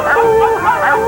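Cartoon hunting dogs on a hunt bark and yip in quick, overlapping bursts, close and loud, with a whining, howling quality.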